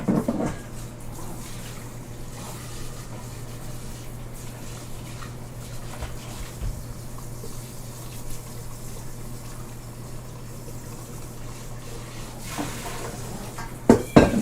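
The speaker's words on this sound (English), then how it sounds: "I just want to rinse things so they don't get crusty sitting while we finish out the show" Tap water runs steadily in a home kitchen as dishes from baking lemon cheesecake crumb bars are rinsed, a constant close hiss with light clinks, and a louder clatter of dishes near the end.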